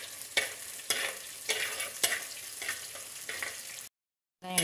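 Onions and curry leaves sautéing in oil for a Katla fish curry, a close sizzle broken by a regular rhythm of spatula scrapes and stirs, falling silent near the end before resuming briefly.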